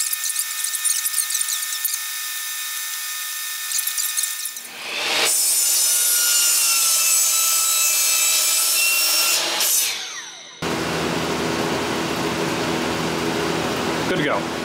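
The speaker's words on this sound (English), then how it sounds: "I'll trim the snipe completely off so that it fits perfectly." Hand saw cutting the snipe off the end of a pallet wood board, a steady rasping stroke sound close by, with a loud burst of sawing in the middle and a shift in tone near the end.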